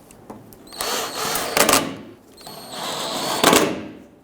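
A power drill drives two screws into the lower mount of a fog light on a 2007-2021 Toyota Tundra, with two close whirring bursts, each ending in a brief strained buzz, and no talking.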